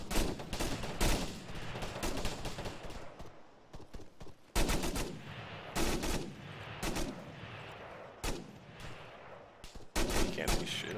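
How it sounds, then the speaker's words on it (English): Rattling rifle and machine-gun fire in the military shooter Squad, repeated bursts and single shots at varied distances cracking across the whole stretch, with faint radio chatter in the background. "Solid copy, we're taking fire from Alpha."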